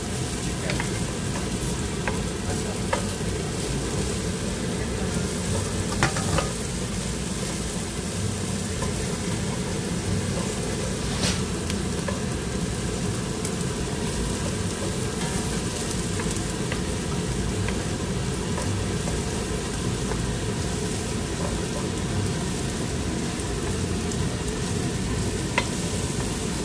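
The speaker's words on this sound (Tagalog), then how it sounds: "Tapos ilalagay na natin yung ating broth. Tapos, hintayin lang natin maluto yung ating chicken." Chicken simmering in broth in a pan for Filipino pininyahang manok, giving a steady, close sizzling and bubbling hiss that runs without a break the whole time, with no one speaking.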